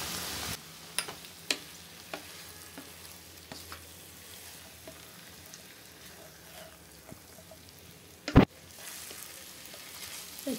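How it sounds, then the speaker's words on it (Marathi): Ginger garlic paste for a South Indian chicken dish sautéing in a pan, a faint steady sizzle with scattered light clicks of a spoon and one louder clank near the end. "ह्याच्यामध्ये मी आलं लसूण पेस्ट घालते आणि छानपैकी परतून घेते त्याला"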